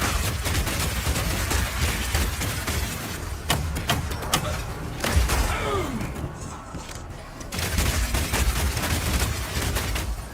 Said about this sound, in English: shoot out a bunch of grenades, and then start the fireworks with a power shot